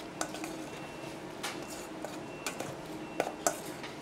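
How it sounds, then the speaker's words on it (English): Guacamole mixed in a bowl, with soft squishing and scattered clinks of a utensil against the bowl, quiet and intermittent. "Next, we're just gonna mix this guacamole around."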